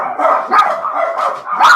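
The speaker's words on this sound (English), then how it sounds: "those are my dogs having a meltdown" Several dogs barking frantically indoors, a rapid overlapping series of loud, close barks and yips with no pause.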